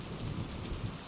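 Steady rain falls in a dense, even hiss, with a low rumble of thunder underneath and no voices.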